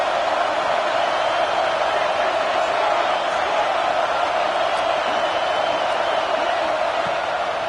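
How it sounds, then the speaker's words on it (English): A large football stadium crowd in Happy Valley roars steadily on third down in a big open space, a constant loud wash of noise that holds without letup. "Here comes the noise from this big crowd in Happy Valley on third down."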